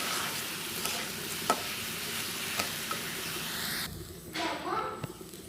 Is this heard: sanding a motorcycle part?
no